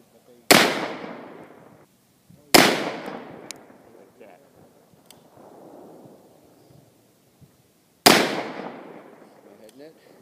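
.357 Magnum rounds are fired at a concrete target outdoors, three loud sharp gunshots spaced apart with decaying echoes, and faint voices in between.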